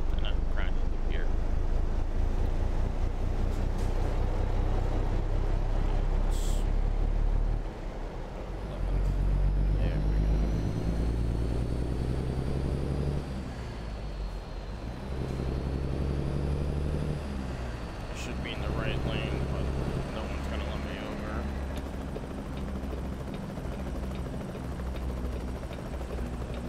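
A Cummins N14 truck engine in a Peterbilt 389 in American Truck Simulator, a deep steady diesel drone that drops and rises across gear shifts, with someone talking over it at times.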